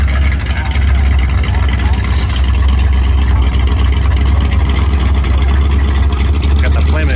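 A loud car rolls through a Porsche car meet, its deep engine rumble steady and close throughout, with people talking over it.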